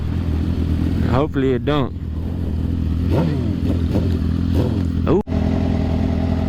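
A 2006 Suzuki GSX-R 750 sportbike on a test ride after a rebuild, its engine droning steadily with several rising revs and gear changes, close to the rider, while someone talks over it.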